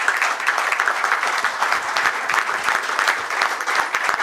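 A large seminar audience gives a standing ovation, applauding steadily and enthusiastically, a dense wash of clapping throughout.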